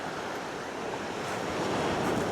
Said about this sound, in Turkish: Çok güzel bir sahil.